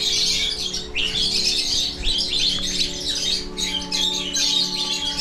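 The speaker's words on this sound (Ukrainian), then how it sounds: "Сотні папуг." Hundreds of parrots squawking together in Snihurivka, a dense, continuous chorus of harsh, overlapping calls and chirps, loud and close, with no voices over it.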